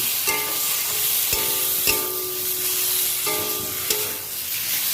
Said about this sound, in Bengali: মশলাটা আমার খুব ভালো করে কষানো হয়ে গেছে।